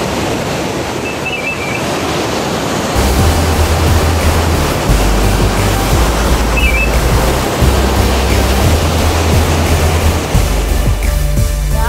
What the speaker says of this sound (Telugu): డ్యామ్ నుండి వాటర్ చూడండి, అసలు మామూలుగా కాదు, ఇంత ఎక్కువ వాటర్ రావడం ఇదే ఫస్ట్ టైం